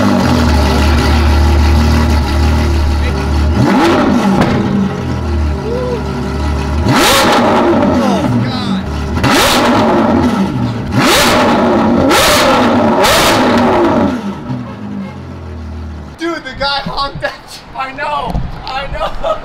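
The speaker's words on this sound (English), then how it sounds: "This is definitely the loudest exhaust I've heard personally." A Ferrari 812 Superfast V12 fitted with a straight-piped Ryft titanium exhaust revs hard in repeated sharp, loud, high-pitched bursts over a rumbling idle, with people talking excitedly around it before it settles toward quieter murmurs.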